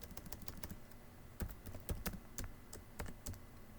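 Someone types on a computer keyboard while entering code, a quiet irregular run of clicky keystrokes close by, with a few sharper taps standing out.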